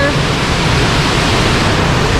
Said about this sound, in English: And we're sitting on a waterfall.